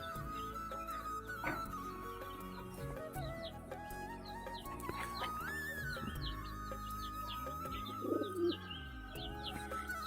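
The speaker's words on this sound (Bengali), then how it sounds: "সব পায়রাগুলো আপাতত খাচ্ছে।" Pigeons coo in low, repeated throaty calls at close range, layered with chirps from other birds and no talking.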